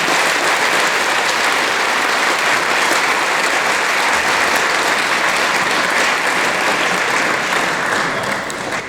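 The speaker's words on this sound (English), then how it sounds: "let's give them all a round of applause" A hall of fame induction crowd gives the inductees a round of applause: a dense, loud, sustained wash of many hands clapping that holds steady for the whole stretch, tapering only slightly at the very end.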